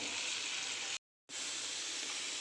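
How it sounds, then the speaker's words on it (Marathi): Spices for a dal khichdi tempering sizzle steadily in hot oil with a bright, even hiss, cut off by a brief moment of silence midway before resuming. "आपला फोडणी चांगली तयार होती आहे"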